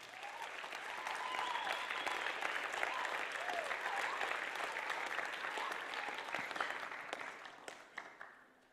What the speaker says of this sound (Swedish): Ska vi ge dem en varm applåd?